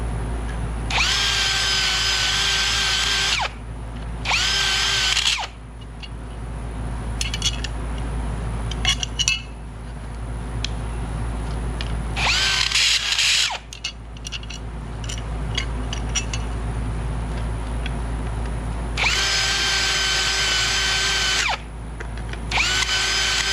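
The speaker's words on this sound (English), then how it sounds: "You're going to countersink these outside ones right here to the M6." Power drill countersinking holes for M6 screws in a part for a no-weld astromech droid ankle, three loud whirring bursts of several seconds each with quieter handling clatter and pauses between them.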